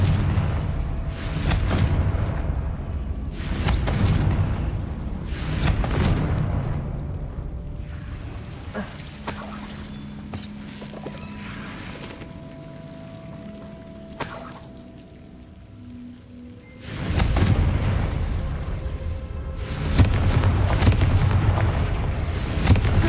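Confringo explosion spells in Hogwarts Legacy go off as several heavy booming blasts. Each blast is loud and rumbling, with quieter gaps between them and a final strong burst near the end.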